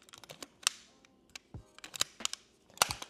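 A camera shutter set to a fast speed of 1/1000 fires in a rapid series of sharp, crisp clicks at close range. The bursts are irregular over a few seconds with faint mechanical rattles between them.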